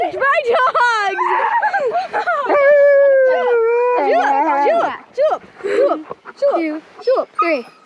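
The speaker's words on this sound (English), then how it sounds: "Getting attacked by dogs!" Several dogs howl together in long, wavering, pitch-sliding calls up close and loud, breaking into shorter yips and whines toward the end.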